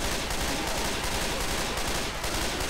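Continuous, loud, dense gunfire from a Left 4 Dead 2 firefight fills the whole stretch without a break, a steady wall of rapid shots with no voices.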